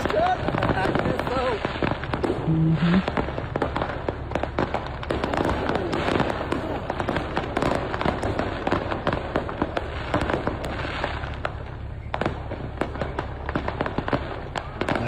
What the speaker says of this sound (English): just fireworks just going off everywhere